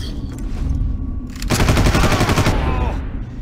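Gunfire in the video game Far Cry 1, with a dense burst of rapid automatic shots in the middle, set against steady game background noise and softer sounds before and after.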